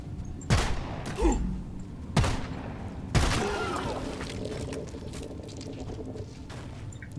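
Gunfire from the co-op video game Deep Rock Galactic, mixed into the fungus bogs setting: several sharp booming shots spaced a second or so apart, followed by softer crackling and patter, with no talk.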